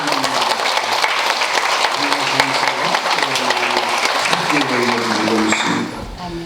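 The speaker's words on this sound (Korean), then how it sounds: "다시 한번 뜨겁게 박수" A church congregation applauds loudly and continuously through a Korean worship service, a dense wash of clapping with voices rising over it, dropping off sharply near the end.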